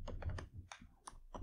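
Quick clicking keystrokes on a computer keyboard, a short close burst of uneven taps with no talking.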